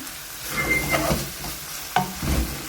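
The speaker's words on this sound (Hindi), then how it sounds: "मिर्चें थोड़ी नरम हो जाएंगी जब तक, बस आपने तब तक इसको भूनना है" Minced meat keema with green chillies frying on high flame in a pan, a continuous hissing sizzle broken by spatula stirs and a sharp scrape near the two-second mark, close, with no speech.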